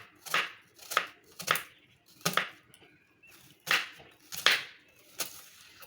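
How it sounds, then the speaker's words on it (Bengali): A knife slices onions lengthwise with about eight crisp, close cuts at an uneven rhythm, separated by short quiet gaps. "পেঁয়াজটাকে লম্বা লম্বা করে কেটে নিলাম, দেখতেই পাচ্ছেন।"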